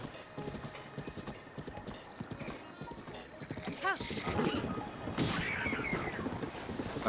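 Horse hooves clip-clop at a gallop in the video game Zelda: Breath of the Wild, with a whinny breaking through amid busy game sounds and a rising rush of action.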